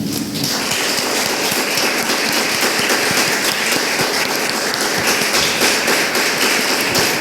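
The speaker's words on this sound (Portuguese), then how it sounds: "Aplauda Jesus aí" Church congregation clapping during a worship service, a dense, loud burst of applause that starts suddenly and continues steadily for several seconds.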